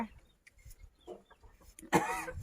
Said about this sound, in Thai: อุ้ยเห็นไก่ป่ะพี่น้องจ้ะ ไก่แจ้